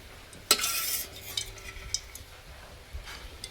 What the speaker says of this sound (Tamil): இந்த கேரட்டை பொரிக்க போகிறேன்.